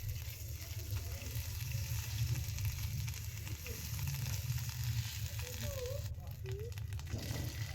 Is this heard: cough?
no